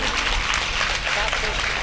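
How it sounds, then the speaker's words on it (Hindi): An audience claps at a ghazal performance gathering, a dense, brief burst of applause that stays loud and steady throughout. "भैया जी के लिए जोरदार ताली बजाएंगे।"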